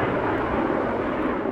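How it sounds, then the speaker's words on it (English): A Sikorsky firefighting helicopter flies toward water to refill while battling a lightning-sparked wildfire near a state park lake, its broad steady engine and rotor roar loud and continuous, with no speech. "A Sikorsky helicopter heading toward water to fill up and fight the Sylvan Fire"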